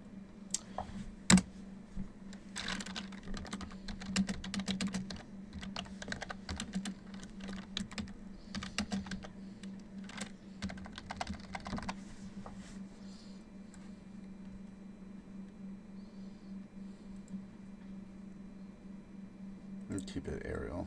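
Text is typed on a computer keyboard in quick, close bursts of clicky keystrokes over a steady hum, pausing midway before a final flurry, with a voice talking partway through.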